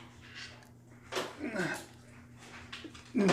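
A dog whimpers and gives short yips close by, mixed with soft human voices over a low steady hum.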